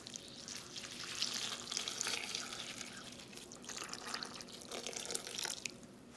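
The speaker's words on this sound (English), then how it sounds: "To your Jamaica, you're gonna add your hot water." Hot water poured onto dried hibiscus flowers (jamaica) in a container, a steady splashing, gurgling pour running close and fairly quiet throughout, swelling slightly midway, with no voices.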